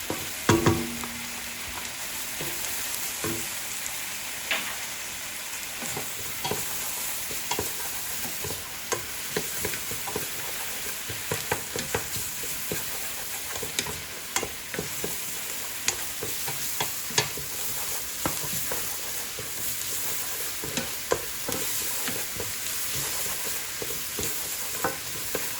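Garlic frying in a pan for Lubia Polo, a continuous sizzle with repeated scraping stirs and utensil clicks at close range, no voices present.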